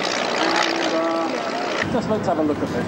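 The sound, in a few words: Spitfire aircraft engines in formation flight at air show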